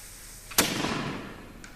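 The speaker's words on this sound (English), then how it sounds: "the cannon is ready to fire" A single sharp, loud bang from a small cannon, followed by a short rushing decay against a quiet background.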